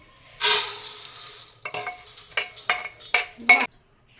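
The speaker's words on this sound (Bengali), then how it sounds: "এই তো কত মুড়ি হয়ে গেছে প্রেসার কুকারে। সুন্দর মুড়ি ভাজা, এখন ঢেলে নিই।" Puffed rice, freshly roasted in a pressure cooker, is poured out in several rattling, clinking bursts close by. Short gaps separate the bursts, and no one speaks.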